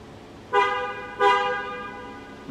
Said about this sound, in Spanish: porque creo que vale la pena, la bocina.